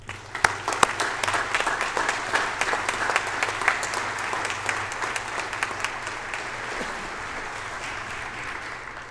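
Audience at a University of Guelph convocation applauding graduates, a dense steady wash of many hands clapping that carries on for several seconds, fairly close, with a low hum underneath and no talk.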